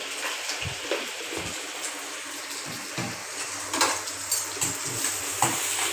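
Onions with salt sautéing in a pan, with intermittent close scrapes and clinks of a spoon stirring against the pot over a soft background hiss.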